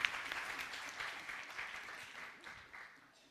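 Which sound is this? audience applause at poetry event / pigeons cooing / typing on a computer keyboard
audience applause at poetry event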